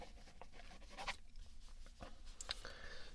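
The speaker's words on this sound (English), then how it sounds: "Just gonna jot down a couple notes from what I see" Pen scratching across paper while notes are jotted by hand, soft brief strokes at close range in a quiet room, with a few louder scrapes.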